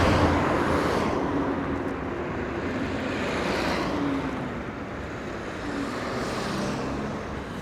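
Steady traffic on a busy country road passes close by during a bike ride through the countryside, a continuous broadband roar with cars swelling and fading, heard alone.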